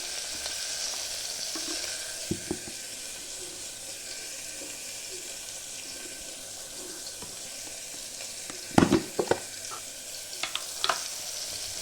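Ginger garlic paste frying in oil for a trotter soup, a soft steady sizzle and hiss with occasional clinks of a utensil against the pan near the end, no voices.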